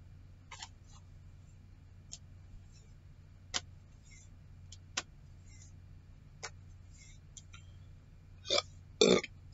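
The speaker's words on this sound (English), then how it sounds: "every time I do a video, I need to burp at some point" A man burps loudly once near the end, after several seconds of quiet room tone broken only by faint clicks.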